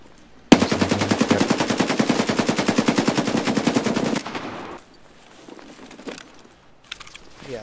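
Rapid, loud burst of suppressed SKS rifle fire in Escape from Tarkov, a steady stream of evenly spaced shots lasting several seconds, then quieter scattered sounds afterward.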